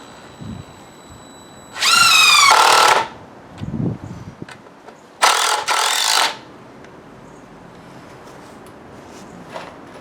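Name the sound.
power drill driving 8x3 screws into wood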